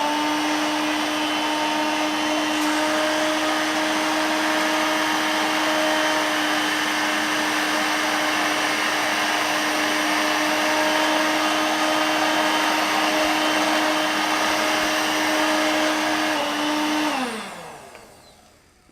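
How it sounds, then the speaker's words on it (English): A Dirt Devil Vibe stick vacuum runs with its brush roll spinning, giving a steady, loud, close whine with a constant high tone that holds for most of the time and then winds down as the motor shuts off. "we're going to test it as a stick vacuum"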